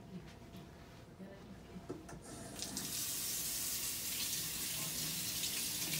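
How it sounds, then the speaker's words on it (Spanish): Hands washed under a running kitchen tap while making Salvadoran pupusas, with water splashing into the sink after a few soft handling sounds and then a steady, close, full rush of running water. "lo primero que vamos a hacer es lavar las manos"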